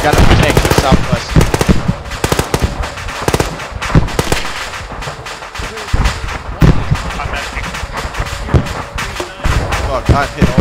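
Dense, loud automatic gunfire rakes toward a player's platoon near an airfield in a game, with rapid overlapping bursts and heavier bangs continuing nonstop while voices talk underneath.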